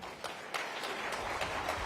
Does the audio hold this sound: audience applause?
yes